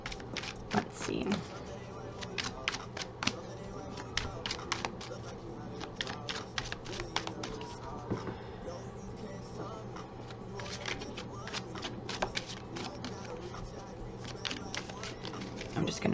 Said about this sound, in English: I'm just going to shuffle both decks,